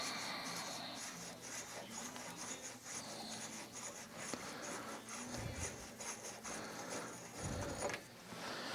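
A nut is worked off the forward/reverse gear assembly of a Sheldon lathe. Close metallic rubbing and ratcheting clicks come in a loose rhythm, with a couple of louder knocks near the end, and no talk.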